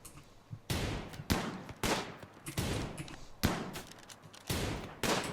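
Colonists in the Rimworld video game open fire, with about eight sharp bursts of gunshots in an uneven rhythm, each loud and close over a quiet background, no voices.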